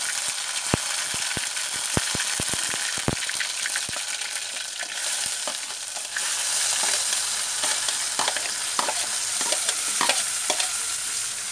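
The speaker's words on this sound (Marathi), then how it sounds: "आणि आलं लसूण पेस्ट आता टाकते मी। गॅस कमीच ठेवायचा।" Ginger garlic paste with mustard seeds fries in a pan over a low flame, giving a constant bright sizzle. Sharp crackling pops come early, then soft stirring scrapes, close up and without speech.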